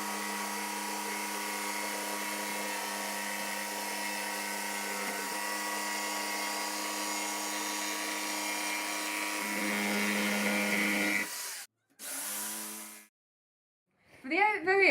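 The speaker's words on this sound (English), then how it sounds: "it's quite difficult to adjust the position of this once you've started jigsawing" A jigsaw cuts a wooden shield on a workbench, a steady loud buzzing whine running for about eleven seconds before cutting out, followed by two shorter bursts.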